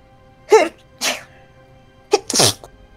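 Two sneezes come close together, each a sharp burst with a quick intake before it, loud and close by in an otherwise quiet space.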